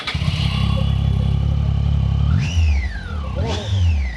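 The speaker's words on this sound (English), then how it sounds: "जो whistling sound होता है ना 800 ट्रिपल सिलेंडर इंजन का, that is just amazing." A Triumph 800 three-cylinder motorcycle engine revs loudly and close by, a sustained roar with a rising whine that climbs and falls twice in quick blips toward the end, alone without talk.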